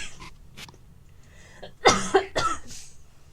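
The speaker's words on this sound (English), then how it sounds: "I breathed wrong and it made me cough." A person coughs in a few quick, close bursts after some quiet breathing, loud and harsh with no speech around them.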